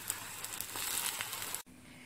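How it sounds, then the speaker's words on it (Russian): Slices of eggplant frying on both sides in sunflower oil give a steady, fairly quiet sizzle with light crackle that breaks off abruptly near the end, leaving a faint low hum. "Будем их жарить с двух сторон на подсолнечном масле."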